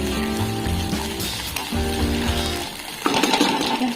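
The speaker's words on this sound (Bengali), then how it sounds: "চিকেন কিমাটা ভাজতে বসিয়ে দিয়েছি।" Chicken mince frying in a pan gives a steady sizzle with soft stirring scrapes, fairly close, with a louder clatter near the end.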